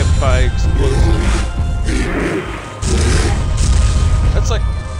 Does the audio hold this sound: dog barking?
no